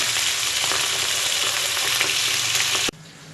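Fish sizzles and crackles steadily in hot oil in a frying pan, a loud, close, continuous fry that cuts off abruptly near the end.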